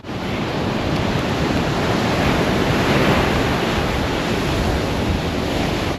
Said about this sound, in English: You know, CB, there's really no better way to start the day than sprinting into the ocean.